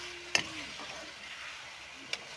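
Small cut potatoes fry in a pan with a quiet, steady sizzle, broken by two sharp clinks of a stirring utensil.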